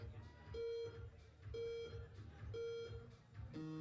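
Three short, evenly spaced electronic buzzer tones sound about a second apart at a climbing wall competition final, followed by a fourth at the end, over a murmur of voices.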